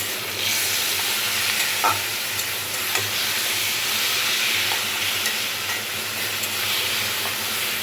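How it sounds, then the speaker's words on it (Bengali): Mashed aubergine sizzles as it fries with fried onions in a pan, a continuous hiss with occasional soft stirring scrapes, steady and close, with no talking. "খুব ভালোভাবে ভেজে নেব"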